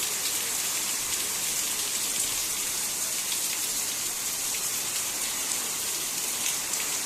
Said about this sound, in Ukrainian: От такий жнивний дощ.